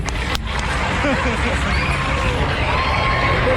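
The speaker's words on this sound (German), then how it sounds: "Kleinen Applaus für die Sarah, bitte." Fairground crowd at an autumn fair around a Break Dance ride, a loud continuous wash of cheering and shouting voices with whoops over a steady low rumble of the ride.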